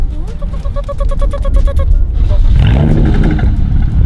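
A stage 3 tuned BMW 335i engine fires up after a couple of chimes, then roars as it is revved, close and loud, with people talking over it.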